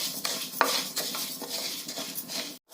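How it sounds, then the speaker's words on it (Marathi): Urad dal roasting in oil over a low flame, with soft sizzling under repeated scrapes and clinks of a spoon stirring against the pan, close and fairly quiet. "अगदी मंद आचेवरती सलग घालून हे भाजून घ्यायचंय"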